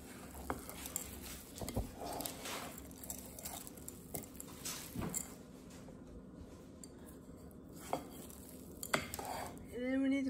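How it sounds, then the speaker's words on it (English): Gluten-free chocolate chip cookie dough is stirred in a bowl, with soft, irregular scraping, squishing and light clinks of a utensil against the dish, heard close and quiet. "we're going to mix all that together"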